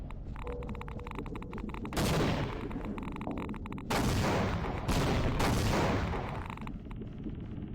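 Gunfire rattles through a WW2 video game map: dense volleys and bursts of shots come and go in loud waves against a constant background din, with no talking.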